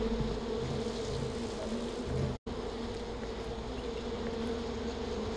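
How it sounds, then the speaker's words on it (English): A steady, droning buzz of bees in Far Cry 4 fills the clip continuously, broken by one brief instant of silence partway through. "Why can I hear bees?"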